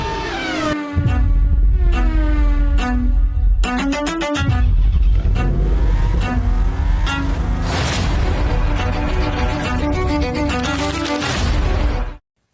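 Formula One race cars screaming past one after another at high revs, their sharp engine whines sweeping up and down in pitch with quick downshift blips, loud and close, no talking.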